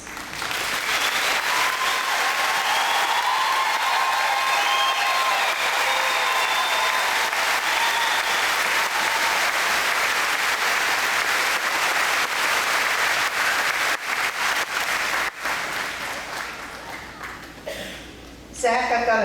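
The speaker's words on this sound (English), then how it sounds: "please stand and accept a round of applause as we show our gratitude for your service" A high school graduation crowd gives a long round of applause for standing veterans and military personnel, steady dense clapping with some voices and cheers mixed in, thinning out near the end.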